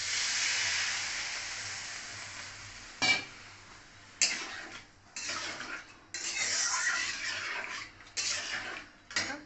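Water pours into a hot pan of rice and spices, raising a loud hiss and sizzle that fades, followed by intermittent clinks and scraping of a utensil against the pan in short bursts.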